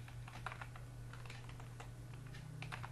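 Steady clatter of keystrokes on a computer keyboard while PHP code is typed, close and continuous over a constant low electrical hum, with no talking.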